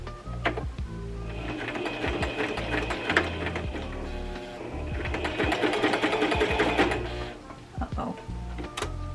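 A domestic sewing machine stitching fabric tags, a close rapid mechanical chatter in two long bursts with a short pause between, ending in a few separate clicks.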